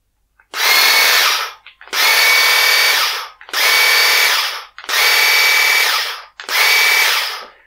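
Graphite 58G098 2-in-1 pole saw and hedge trimmer running in five loud, close bursts of steady electric motor whine, each lasting about a second and a half and separated by short pauses.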